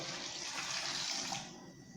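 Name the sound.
pouring water over diced green papaya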